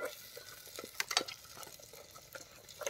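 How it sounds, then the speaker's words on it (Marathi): Egg masala with egg yolk frying and being stirred in a pan, a quiet close sizzle with soft scraping strokes and a few clinks, no talking. "ह्या बघा कसला मस्त फ्राय होतोय"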